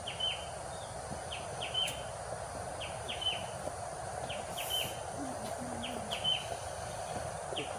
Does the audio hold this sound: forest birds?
yes